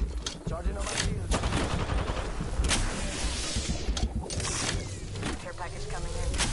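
Continuous gunfire in a battle royale shooter game, with rapid sharp shots and bursts running throughout, moderately loud, with players talking over the shooting.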